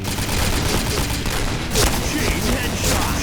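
A Jackhammer shotgun fires in the Point Blank online shooter, a dense, loud barrage of rapid repeated blasts running straight through the short stretch with no pauses.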